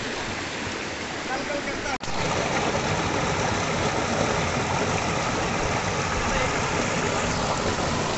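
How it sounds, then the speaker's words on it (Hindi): Steady rushing stream water flows loudly and close by in the hills of Ajaygarh, Madhya Pradesh, a dense continuous wash with a brief cut near the start. "ये देखो ये पानी आ रहा है"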